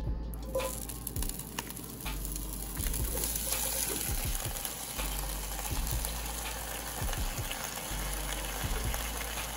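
Chopped vegetables sizzle and crackle steadily in hot grapeseed oil inside a Dutch oven, a close, continuous frying hiss with occasional soft stirring thumps and no talking.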